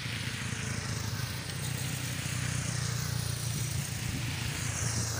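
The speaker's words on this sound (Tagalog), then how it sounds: "Ayan ang motor." A motorcycle engine drones steadily close by on an outdoor road, a continuous loud rumble that grows slightly fuller as it passes, with no talk over it.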